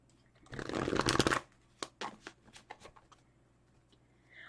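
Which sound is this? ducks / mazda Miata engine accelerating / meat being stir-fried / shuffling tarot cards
shuffling tarot cards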